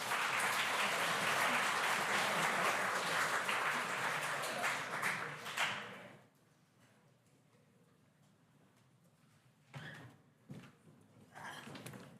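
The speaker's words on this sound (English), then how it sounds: "Another big round of applause for Albert and his team." Conference audience applauding after a presentation, a steady wash of clapping for about six seconds that cuts off, followed by quiet room tone with a few faint knocks and rustles.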